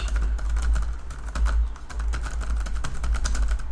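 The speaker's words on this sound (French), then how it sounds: "Et le son des touches ici." Rapid typing on a BMAX Y11 laptop keyboard, a dense stream of light key clicks at close range that runs steadily for several seconds, with no speech over it.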